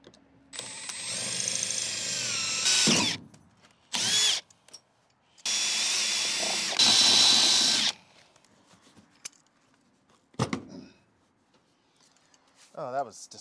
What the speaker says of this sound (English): Yeah, we're drilling these.